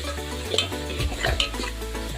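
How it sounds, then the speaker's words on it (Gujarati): Cholafali sabji being stirred in a pan, with soft scraping and low knocks of the spoon against the pan over a faint sizzle, brief and close. "બરાબર તેને હલાવવાનું છે."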